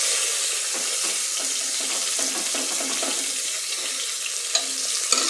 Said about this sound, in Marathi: तर कांदा ना आपला छान भाजला, त्याच्यामध्ये ना मी टोमॅटो टाकून घेते.